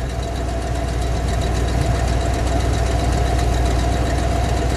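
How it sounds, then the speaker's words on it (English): A 1966 Buick Wildcat GS Gran Sport convertible's V8 exhaust idles steadily up close, a deep, even burble with a rhythmic low-end pulse and no talking. "Let me just get the exhaust note at idle."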